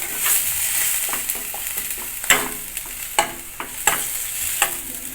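Tablespoon of ginger paste frying in a pan with very little oil, a steady soft sizzle broken by repeated scraping stir strokes of a spoon, close and clear with no talking.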